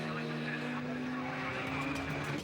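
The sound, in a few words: Radical race car accelerating at Donington Park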